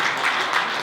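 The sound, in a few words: audience applause for a poet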